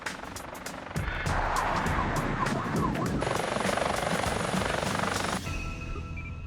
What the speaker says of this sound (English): The air ambulance has also been scrambled